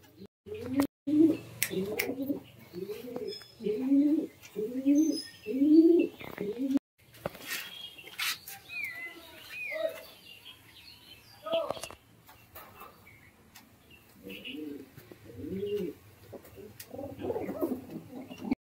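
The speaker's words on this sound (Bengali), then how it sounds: "নিউ অ্যাডাল্ট, ডাক চলে এসছে, গরম পায়রা" A Madras or Giribaz pigeon coos in a rhythmic series of rolling calls up close, followed by clattering, rustling and faint chirps, then more cooing near the end.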